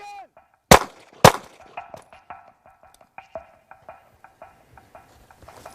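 Two sharp, loud handgun shots fired in quick succession during a tactical quick-draw drill with a concealed-carry holster, followed by a long string of fading echoes and small clatter; a brief voice opens the clip.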